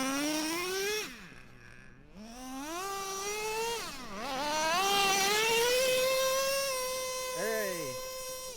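A nitro RC car engine races around an outdoor track, its high-pitched whine rising and falling as it revs, drops off and accelerates again, loud and close, with voices around it.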